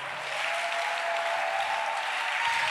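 Church congregation at a worship service applauding and cheering for Jesus, a dense, steady wash of clapping that stays loud and even throughout.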